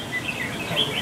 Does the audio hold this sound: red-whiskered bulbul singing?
yes